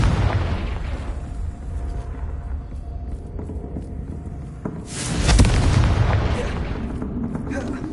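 A Confringo blasting spell from the Hogwarts video game goes off with a loud booming burst about midway, its rumble trailing over a steady background of game effects and ambient noise.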